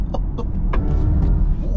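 An electric BMW iX2's low, steady rumble fills the cabin as it picks up speed, with a few brief higher-pitched chirps over it.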